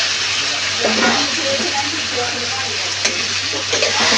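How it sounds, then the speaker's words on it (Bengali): Fried potatoes being stirred into a spiced masala in a hot pan give a steady, close sizzle with scraping stir sounds, and a voice is faintly present. "ভেজে রাখা আলুগুলো দিয়ে মশলার সাথে ভালো করে মিক্স করে নেব।"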